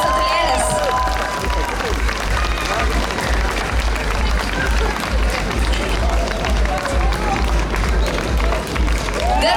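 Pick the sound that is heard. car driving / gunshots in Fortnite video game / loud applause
loud applause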